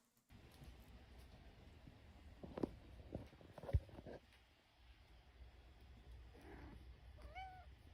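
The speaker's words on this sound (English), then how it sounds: "So this is the Mira cat." A cat meows a few times, soft and fairly close, amid faint rustling and shuffling in a quiet room, with a rising, wavering cry near the end.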